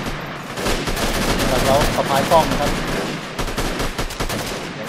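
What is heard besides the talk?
gunfire in the video game Freeman: Guerrilla Warfare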